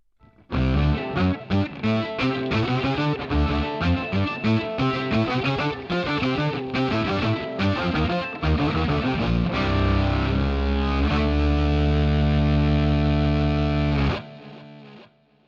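A violin through a Line 6 Helix distortion patch plays a heavily distorted, buzzy fast melodic run, then settles into long sustained distorted notes before cutting off.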